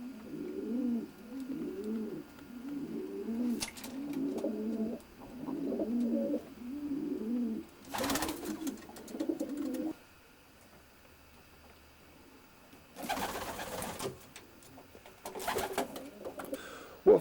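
Racing pigeons in a loft with deep litter flooring give a run of soft, rhythmic coos close by, followed by quieter stretches broken by brief wing flutters and bumps.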